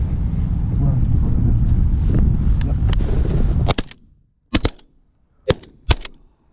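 Gun shots at pigeons in a city, a sharp crack near the end of a stretch of wind and low rumble, followed by three more isolated sharp pops in near silence.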